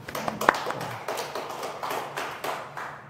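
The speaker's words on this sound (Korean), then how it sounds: "박수 한번 주세요." Scattered applause from a church congregation, a few distinct claps and light taps rising and falling at moderate distance, fairly quiet and thin rather than a full ovation.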